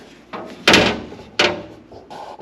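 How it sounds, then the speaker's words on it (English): A metal access door on a welding machine is opened in a home shop during rust repair on a 1981 Chevrolet C-10, giving two sharp, loud clanks a moment apart, each fading with a brief rattle. "there's a door you can open over there with a chart"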